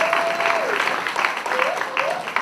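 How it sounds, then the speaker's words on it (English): Audience applause for an event organiser at a KAIST gathering, a steady wash of clapping lasting the whole stretch while a voice talks over it. "Please give him a big round of applause."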